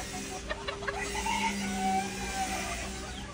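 A Thai ornamental chicken clucks in short bursts at a chicken farm, close and clear, with other fowl sounds and a light hum in the background.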